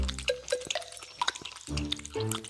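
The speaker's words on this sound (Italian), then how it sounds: "Le tre rane si riunirono su una grande foglia e iniziarono a bere l'acqua del lago." Cartoon frogs drinking lake water: a series of light, wet drips and liquid gulps, some brief and others longer, quiet and close, with no talking.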